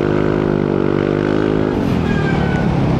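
Yamaha Nmax Techmax Turbo scooter with a VMAX Racing Onyx aftermarket muffler, held near 6,000 RPM: loud, close, steady buzzing exhaust drone that eases slightly in pitch partway through, no talking.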